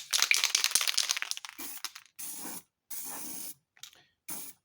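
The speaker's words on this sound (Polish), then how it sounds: "I wtedy sobie dobrze jest po prostu psiknąć" An aerosol can hisses in a long spray, then several short bursts follow with brief silences between them, close and fairly quiet.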